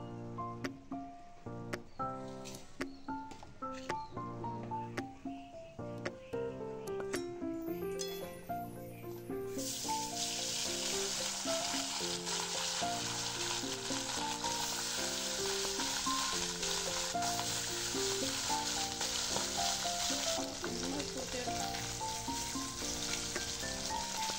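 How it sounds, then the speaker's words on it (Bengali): Small fish coated in salt and turmeric fry in hot oil, a steady close sizzle that swells to a dense, loud hiss after the fish go in, with music playing over it throughout. "মাছগুলোকে কেটে নেওয়া হয়েছিল যেগুলো, সেগুলো এখন নুন হলুদ মাখিয়ে ভাজার জন্য প্রস্তুত করা হচ্ছে।"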